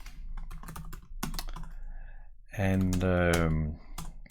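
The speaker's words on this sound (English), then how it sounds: "Type in my server name and download the symbols." Quick clicking keystrokes on a computer keyboard, close and fairly quiet, heard under a man's speech that becomes louder and more sustained midway.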